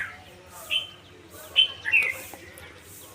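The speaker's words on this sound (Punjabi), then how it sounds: "ਬੁਲਬੁਲ ਆ ਗਈ ਬੁਲਬੁਲ" Several short, bright bulbul chirps ring out at intervals over a quiet, low-level background hum.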